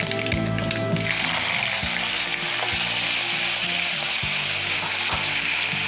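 Ginger garlic paste frying in a pan with butter, a steady loud sizzle with occasional stirring scrapes, no voices over it.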